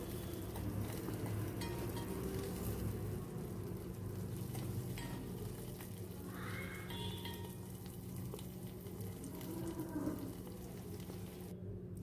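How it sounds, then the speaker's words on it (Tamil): Green chillies and tempering frying in oil, a soft continuous sizzle and crackle with faint scattered pops, quiet and steady with no voices. "இதெல்லாம் நல்லா ஃப்ரை ஆகட்டும்."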